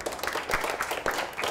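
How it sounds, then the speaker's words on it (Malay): Classroom applause from a group of students, a steady, dense patter of many hands clapping at moderate volume with no voices on top. "Okey, tepuk tangan."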